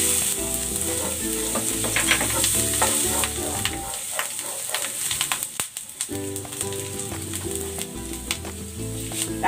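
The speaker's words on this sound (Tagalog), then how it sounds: "Igigisa ko na tong bawang." Garlic sautéing in cooking oil in a pan while it is stirred, a loud, steady sizzle with scraping stir strokes. Background music plays, and the sizzle briefly drops around the middle.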